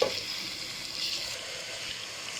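Chopped onion, ginger, garlic, whole green chillies and cumin frying in oil for a chicken curry, giving a steady, soft continuous sizzle with no talking.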